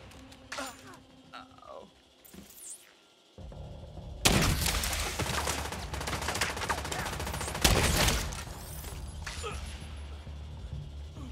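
Chem launcher fire at hostiles in a video game, a long dense roar of rapid bursts and explosions after a quieter opening with scattered clicks and tones.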